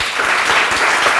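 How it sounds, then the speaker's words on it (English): Students in a maths class clap together for a classmate, a short burst of loud, close, dense clapping with no talk over it. "Give him a clap."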